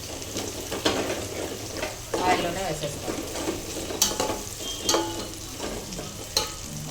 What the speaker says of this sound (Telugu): అన్ని మసాలాలు బాగా ఫ్రై అయ్యాయి